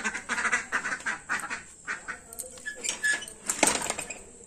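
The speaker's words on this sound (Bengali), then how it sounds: "এই যে হাঁসগুলো মুরগিগুলো সমস্ত কিছু ঢুকিয়ে দিলাম" Ducks quack in repeated bursts at close range while being herded into their pen at dusk, with some clinking and clattering in the background and no talking.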